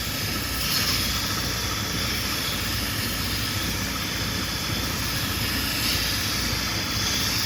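Sandpaper of 100 grit rubs against a turned curly maple wand spinning on a lathe, a steady, dense whooshing hiss with a constant motor drone, loud and close throughout without pauses.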